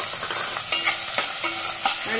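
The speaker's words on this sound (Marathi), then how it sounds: "आता आपला कांदा इथे परतून झालेला आहे, याच्यात आपण धुवून स्वच्छ केलेली कोलंबी घालून घेऊया" Washed prawns sizzle in a pan with sautéed onion, a steady frying hiss broken by a few scraping stirs of a spatula, close and clear with no talking.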